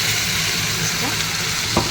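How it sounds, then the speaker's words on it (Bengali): A constant loud sizzle of onions frying in a pan with a ginger, garlic, tomato and onion spice paste, close up, with a brief stirring scrape near the end. "পেঁয়াজটা লাল লাল করে ভাজা হয়ে গেছে"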